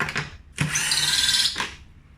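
Power tool whirring as it undoes a 10mm bolt on an all-terrain vehicle, with a short burst and then a sustained whine of about a second, close and loud, with no talking.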